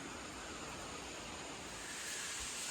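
Broad steady rush of flowing water from a creek about 20 feet across in woods, constant and fairly close with no talking.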